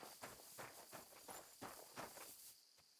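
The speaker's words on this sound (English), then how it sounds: "A well-dressed horse." Horse hooves clip-clop at a walking pace in the video game Kingdom Come Deliverance 2, a steady rhythm of soft, fairly quiet hoofbeats over an airy outdoor ambience.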